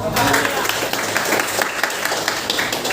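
A classroom of students applauds together, a dense steady patter of clapping running continuously with some voices mixed underneath.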